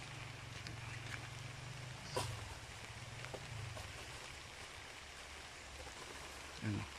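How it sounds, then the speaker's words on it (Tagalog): Heavy rain hisses steadily and faintly during an outdoor coconut harvest, with a low hum underneath and a few brief knocks. "Malakas ang ulan."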